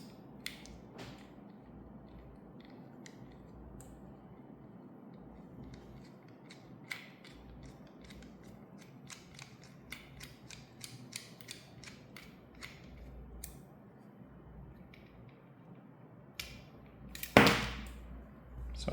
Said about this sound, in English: we need to remove this screw right here